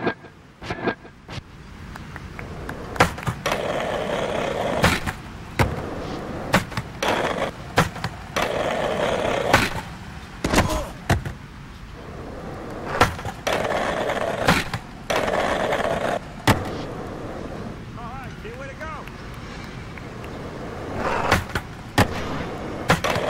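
Skateboard wheels rolling and grinding in the game Tony Hawk's Proving Ground, with repeated sharp clacks and landing slams from flip tricks scattered over a steady rolling roar, loud and close, with no talking.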